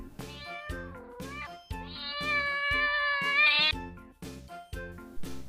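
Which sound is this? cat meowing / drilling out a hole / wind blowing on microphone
cat meowing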